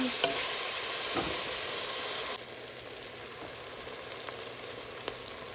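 Potatoes frying and sautéing in a pan, a steady broadband sizzle throughout with light stirring scrapes, close and moderately loud, easing slightly partway through.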